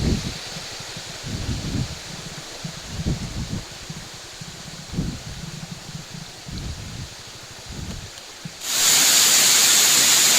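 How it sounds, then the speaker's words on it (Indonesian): Setawing waterfall in the Menoreh mountains, Kulon Progo, first as a soft distant rush under low gusty rumbles, then swelling abruptly in the final seconds into a loud, close, steady broadband roar of falling water. "kita sekarang sudah berada di air terjun Setawing namanya"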